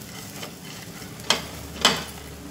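Flax and chia seeds stirred in a pan, two distinct scraping strokes and a softer earlier one over a faint steady hiss.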